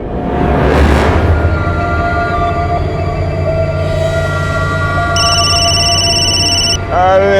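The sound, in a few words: telephone ringing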